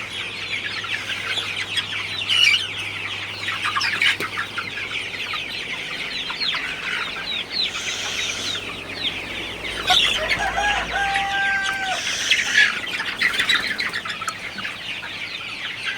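Sonali chickens cluck steadily while drinking water on a poultry farm, a dense chorus of overlapping clucks and calls close by, with a few louder squawks standing out.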